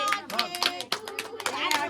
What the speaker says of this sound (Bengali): হাততালি দে হাততালি দে হাততালি দে